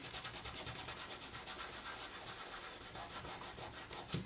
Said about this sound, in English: I'm going to flip it over and just give that a rub this way